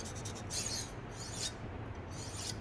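Wusthof boning knife blade being worked across a sharpening surface, steady close rasping and rubbing strokes with brighter scraping bursts repeating every second or so.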